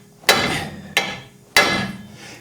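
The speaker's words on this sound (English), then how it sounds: "So I got a cold chisel, relatively sharp cold chisel. See if I can snap these off." A sledgehammer drives a cold chisel against a front ball joint on a 2006 Pontiac Torrent: three loud, close metallic strikes about half a second apart, each ringing briefly before fading, with no talking.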